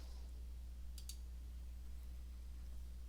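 A computer mouse gives two quick, close clicks on an add icon, crisp and faint over a steady low hum.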